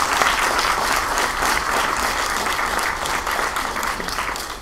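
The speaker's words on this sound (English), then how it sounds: "Big round of applause for you guys for being here." Conference audience at a hockey analytics event breaking into applause: loud, dense, continuous clapping from a large crowd that keeps a steady level for the full stretch.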